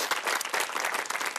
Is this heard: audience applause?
yes